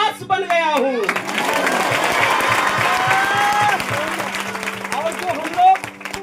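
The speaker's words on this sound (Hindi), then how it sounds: "जो हम लोग धन्यवाद की ताली बजाते हैं ना" A church congregation claps together in thanks, a broad sustained patter of many hands filling the room, with a voice speaking over the start and end.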